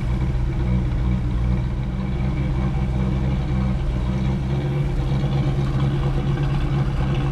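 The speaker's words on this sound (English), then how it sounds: "Come on back and listen to the exhaust." A 1967 Ford Mustang GTA Fastback V8 exhaust with factory GT tips idles with a deep, steady rumble and low throbbing pulses, continuous and close.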